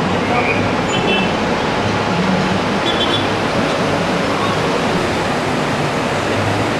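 The Urubamba (Vilcanota) river rushes through the middle of the village of Aguas Calientes, Peru, making a steady, loud, broadband roar of churning water with no break throughout.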